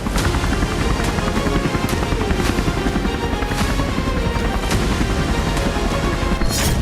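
A helicopter thumps loudly and continuously in news footage, its dense rotor chop filling the whole stretch with steady, close, heavy noise and no talk.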